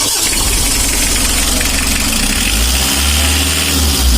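A hot Mitsubishi L300 engine strains to start, cranking and running roughly with a loud, close, continuous mechanical clatter and a deepening rumble toward the end.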